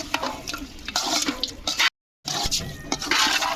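A spoon stirs duck curry thick with masala in a pot for village-style duck biryani, making wet, squelching scrapes and sloshing with a short silent break midway.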